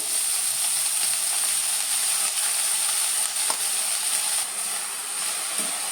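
Fenugreek leaves tossed into garlic in a hot pan sizzle and hiss steadily and close up for the whole stretch, with a few faint stirring clicks and no voices.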